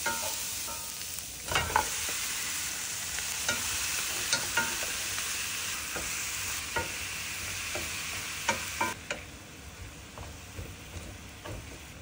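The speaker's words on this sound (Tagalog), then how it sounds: "Add more oil as needed at gisa ang onions and garlic until softened." Onions and garlic sauté in oil for Filipino paksiw na pata, a continuous soft sizzle with repeated clinks and scrapes of a stirring utensil scattered throughout, close and fairly quiet, with no talking.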